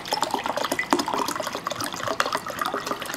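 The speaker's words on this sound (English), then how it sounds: "So I'm gonna pour a pint of water." A pint of room-temperature water is poured into a glass, a soft, steady splashing trickle with small bright gurgles, close and fairly quiet, with no talking over it.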